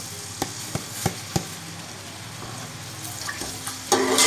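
Onions browning in hot oil in a pan give a steady sizzle, broken by several sharp clicks as a spoon or spatula knocks against the pan. A louder burst of frying hiss comes at the end.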